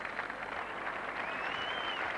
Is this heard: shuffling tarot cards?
no